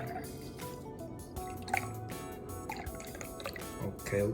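Pineapple juice is poured into a cognac cocktail on a yacht, giving wet, splashy liquid sounds with dripping and gurgles under a background of voices and movement.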